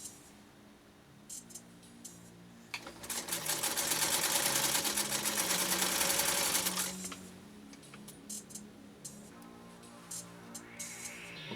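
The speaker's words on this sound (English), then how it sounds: "let's see how it does with what would choke a lot of other vintage sewing machines" A vintage Singer 192K sewing machine runs a single loud burst of several seconds through thick material, with quieter clicks and handling before and after.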